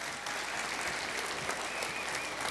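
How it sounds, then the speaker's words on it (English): A church audience applauds a smiling trick horse after a performance, a dense, even burst of clapping from a crowd that holds steady throughout. "ou've enjoyed Champ the Smiling Trick Horse, give him a round of applause."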